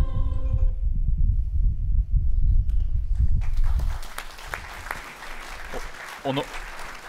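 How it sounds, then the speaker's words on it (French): Audience applause at the Bobards d'or 2021 awards ceremony, starting over loud low music that cuts off around four seconds, then a sustained steady patter of clapping from a hall crowd with a few sharper claps near the end. "Merci de vos applaudissements"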